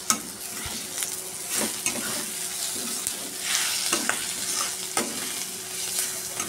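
Green chillies and pieces of a small capsicum frying in a pan, a steady close sizzle with occasional sharper spits and pops, punctuated by a few scraping stirs, no voices.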